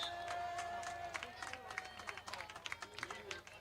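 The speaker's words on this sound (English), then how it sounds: "Lebanon fans are clapping." Lebanon fans clapping in the stands at a Riverdale vs. Lebanon high school football game, scattered claps picking up into a rhythmic patter amid distant crowd noise and a faint whistle-like tone early on.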